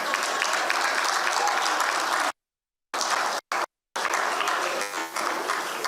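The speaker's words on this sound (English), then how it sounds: "That doesn't bring large claps." An audience at a legacy and leadership lecture breaks into sustained applause, broad and even, interrupted by a few abrupt dead-silent gaps before the clapping resumes with a faint voice near the end.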